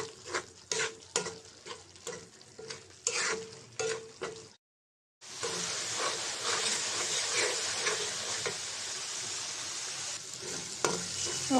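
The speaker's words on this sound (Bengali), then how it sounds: "মশলাটা ভালো করে কষাই নিব।" Spice masala of salt, chili powder, turmeric, coriander powder and bay leaf frying in a pan for spicy duck curry, with rhythmic stirring scrapes over continuous sizzling, briefly cutting out before a steady loud sizzle resumes.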